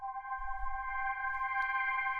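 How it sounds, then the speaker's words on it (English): A sustained FM synth chord made in Ableton Operator from four sine waves, with clean stacked tones holding steady and evenly for the whole stretch, alone with a faint low rumble beneath. "this is just a simple FM sound. It's just 4 sine waves"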